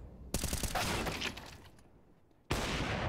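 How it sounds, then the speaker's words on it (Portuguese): Automatic gunfire in Counter-Strike on the Dust2 map during a professional BLAST Premier match: a rapid burst of close, loud shots that fades, then another sudden volley. "Não pode errar esses tiros, não, Serk."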